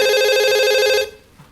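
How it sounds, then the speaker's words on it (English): A telephone rings once on a relationship talk show, a bright electronic trill lasting about a second, loud and close, then cutting off abruptly into near silence. "That must be a phone ringing"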